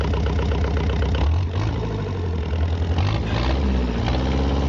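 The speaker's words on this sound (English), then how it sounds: "It's diesel engines." A diesel compression-ignition piston aircraft engine runs steadily, a loud low throbbing drone with a slight rise in pitch partway through and no talk over it.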